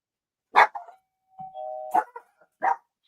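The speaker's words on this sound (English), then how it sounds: "Someone is ringing the doorbell." A two-tone doorbell chime rings once, close and clear, with a dog giving short barks just before and after.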